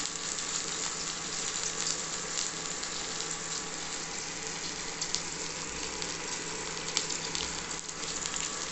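Onions sizzle and fry steadily in a pan with ivy gourd, a continuous close hiss and crackle with a few brief louder pops.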